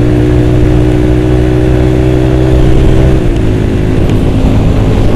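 A racing vehicle's engine held at full throttle, a loud close continuous roar whose pitch stays steady and then dips slightly, with no voices over it.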